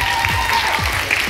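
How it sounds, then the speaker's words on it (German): Crowd applause at a fan meetup in Hamburg rolls on as a steady, moderately loud clatter of many hands, with a low rumbling hum beneath. "Ansonsten sage ich jetzt einen Applaus für Jojo"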